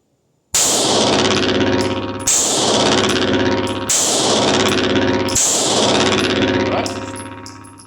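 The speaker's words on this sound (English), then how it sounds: "Here's 5 rounds out of just a comped Glock." Four loud, close gunshots from a compensated Glock pistol, fired at a steady pace, each sharp crack trailing into a ringing decay before the next.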